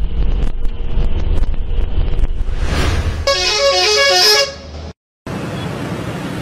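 A bus on the Solo–Wonogiri route in Indonesia sounds its telolet horn, a loud, melodic run of rapid musical toots after wind buffeting and engine rumble, then a brief cut and more road noise.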